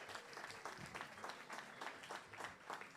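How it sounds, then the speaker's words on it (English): An audience at a Central Florida Jazz Society concert claps steadily for three seconds, a dense and even round of applause that sounds moderately distant, with no voices over it. "So give yourselves a round of applause."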